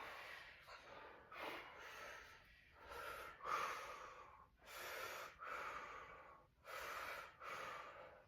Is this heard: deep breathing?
yes